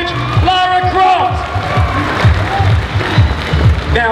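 Audience clapping at a cosplay show at a gaming expo, a steady patter of applause that carries on throughout while a voice talks over it.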